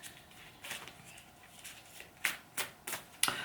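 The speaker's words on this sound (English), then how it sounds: "Let's pull some cards for Nicola Sturgeon." Oracle cards being shuffled for a reading, a soft papery riffle that begins faint and grows into several crisp, distinct bursts toward the end, close and quiet with no talking.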